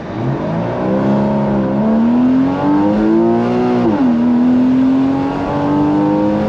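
A Porsche Boxster flat-six engine revs up under full 0-to-60 acceleration, loud and near, its rising pitch dipping briefly at a gear change before climbing again.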